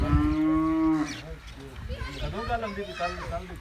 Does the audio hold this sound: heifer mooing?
yes